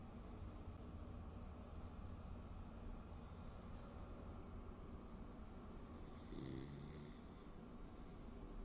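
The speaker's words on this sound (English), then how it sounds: "Is it the snoring?" Snoring from a played recording of someone asleep at home at night, a steady, continuous droning texture with no voices over it.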